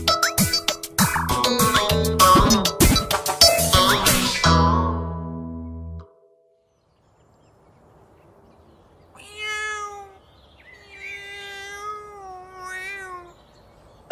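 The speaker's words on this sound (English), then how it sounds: "Oh dear! My cat is in the tree and it can't get down." A cat stuck in a tree meows several times, plaintive and wavering, alone in quiet. Loud, busy music plays before the meows begin.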